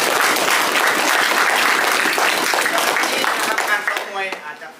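A group claps after a Muay Thai kickboxing training session, dense sustained applause that tapers off near the end as a voice starts speaking.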